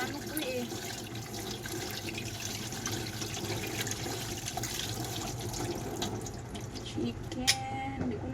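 Tap water runs steadily into a sink while raw chicken is washed in a home kitchen, a constant close splashing hiss with a brief clatter near the end.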